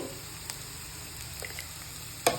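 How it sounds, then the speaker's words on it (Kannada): Red pasta sauce frying in a pan, a soft steady sizzle with a few faint clicks and a louder scrape or tap at the end, no voices. "ಫ್ರೈ ಮಾಡಿ."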